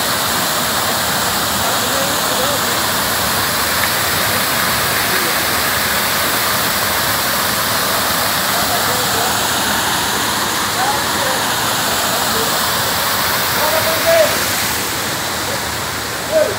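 A waterfall at Bragantino in Maranguape, Ceará, Brazil, gives off a steady, loud, close rushing roar of falling water that never lets up, with faint voices now and then under the noise.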